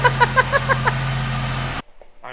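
A vehicle engine catches with a few rhythmic pulses, then settles into a loud, steady idle before the sound cuts off abruptly.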